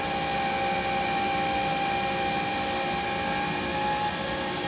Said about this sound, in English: we go to a flow pattern to check the pattern of all these fuel injectors here